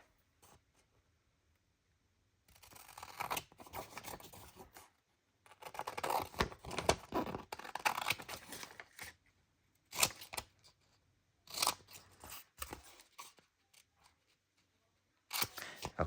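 Scissors snip through paper to cut out a tag from a gel print, a series of close crisp cuts in bursts separated by short pauses.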